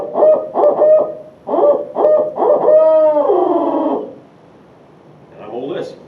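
A person's voice imitates the barred owl's laughing call: a run of loud, rhythmic hoots rising into a drawn-out, wavering cackle, then a quieter trailing hoot after a short pause, close and alone.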